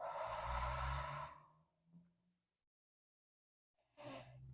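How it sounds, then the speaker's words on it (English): A long, soft exhale during a beginner yoga flow, followed by a brief pause, a faint catch of breath and the start of another breath. "Breathe."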